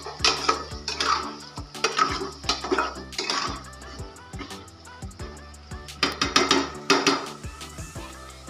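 Chicken and onions are stirred and fried in a pot at home, with repeated metal clanks and scrapes of a spoon against the pot in an irregular rhythm, close and fairly loud.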